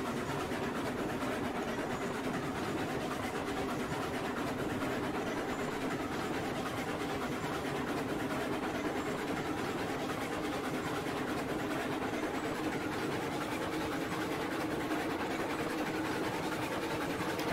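A steam-era train engine in the Railroads Online video game hums and chugs as a faint, steady mechanical drone that runs unbroken throughout, with no speech.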